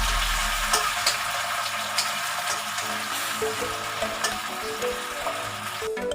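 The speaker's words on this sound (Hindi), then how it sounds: "अब मैं डालेंगे टमाटर, और इसे अच्छे से चला देंगे।" Tomatoes sizzle and hiss in a hot pan with golden-browned aromatics for masoor dal while a utensil scrapes and stirs them in irregular strokes, close by.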